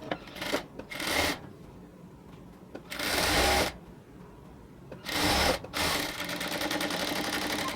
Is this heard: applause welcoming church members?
no